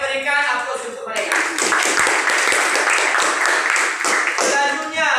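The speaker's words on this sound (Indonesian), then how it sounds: "Oleh karena itu kita berikan aplaus untuk mereka." Junior high students at SMP Swasta Fatima Sibolga break into steady classroom applause for a student group, a dense burst of clapping that follows a brief bit of talk and lasts a few seconds before easing off.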